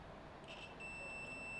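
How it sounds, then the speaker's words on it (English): A continuity tester on a 3D-printer toolhead sounds a steady high electronic beep that starts partway through and holds, thin and moderately quiet against a faint room hiss. "yes, it's beeping. So we have continuity between the two."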